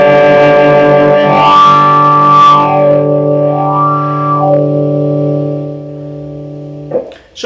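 Electric guitar through a Fulltone WahFull fixed wah pedal in jimmy mode with the gain turned up, a loud sustained distorted chord whose nasal filtered peak sweeps up and down before it is cut off abruptly near the end.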